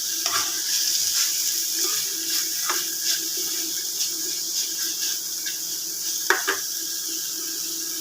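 Tomatoes frying in a pan for a black chickpea soup, giving a steady close sizzle throughout with occasional stirring scrapes and light utensil clinks, no talking.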